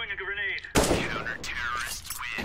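Gunfire in a competitive online shooter game, a sharp loud burst of shots followed by further rapid shooting, with a player talking over it.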